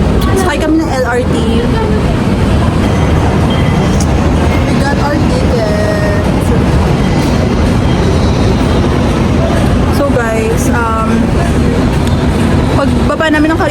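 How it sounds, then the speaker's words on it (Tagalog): Steady rumble and rattle inside a moving LRT light rail train car in Manila, a continuous loud ride noise with brief squeals and people talking nearby. "Sakay kami ng LRT."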